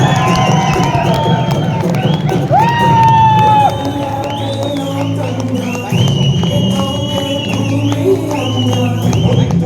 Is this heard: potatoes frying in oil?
no